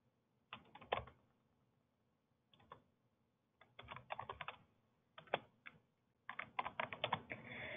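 Someone types a password on a computer keyboard in several quiet bursts of quick key clicks, separated by short pauses and ending in a denser run of strokes.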